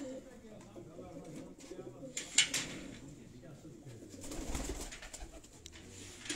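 Pigeons coo softly on a rooftop in Islamabad amid steady background noise, with people talking nearby and a brief sharp click partway through.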